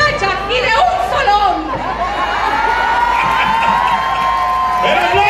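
A crowd at an independence day festival concert cheers, whoops and applauds loudly, with children shouting and a singing voice carrying over the noisy, continuous roar.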